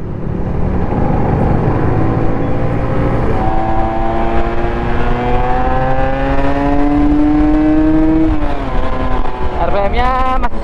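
An Aprilia RS250 two-stroke motorcycle engine revs loudly and close up, its pitch climbing steadily over several seconds, dropping briefly, then rising in a final sharp burst.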